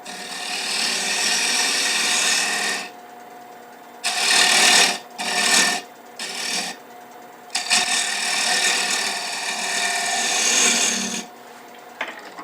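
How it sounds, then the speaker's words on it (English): Steady back-and-forth rasping of a handmade dovetail tool filing wood for a napkin holder, in long strokes broken by a few short pauses. "I'm going to come in using my dovetail tool that I made."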